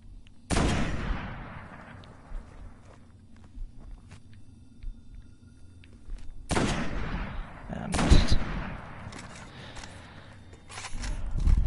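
Sniper rifle shots in the Destiny video game on the Moon, three loud sharp blasts spaced several seconds apart, each ringing out in a long echoing tail over quiet ambience.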